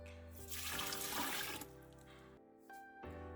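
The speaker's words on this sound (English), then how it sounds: "dump in about 4 cups of water" Water pours in a gushing stream into a pot, a bright splashing rush that tapers off, then resumes briefly with a ringing, hollow tone.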